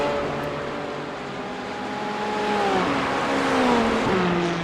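McLaren and Porsche race cars in a racing video game, engines droning steadily with rising and falling pitch as they accelerate and shift, a continuous close roar.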